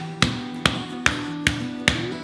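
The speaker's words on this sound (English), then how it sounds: "We're gonna bang on this breast until it's nice and flat." A hammer pounds raw chicken breast flat for chicken cordon bleu, five sharp, evenly spaced thuds about every 0.4 seconds, close and loud over a low steady hum.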